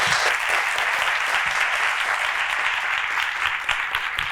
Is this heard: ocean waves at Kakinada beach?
no